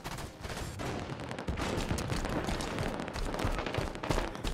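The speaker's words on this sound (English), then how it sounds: "Watch your head. Incineration cannon's up." Incineration cannon firing in the Halo 5: Guardians video game, dense roaring bursts of explosive gunfire and blasts layered into a continuous loud barrage with no pauses.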